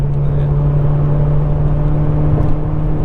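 A 2018 Mazda 3 hatchback drones steadily from inside the cabin, a loud constant engine hum with a sustained low tone and faint road noise, no distinct revs or passes.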